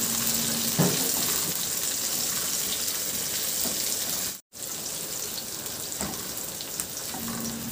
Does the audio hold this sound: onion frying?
yes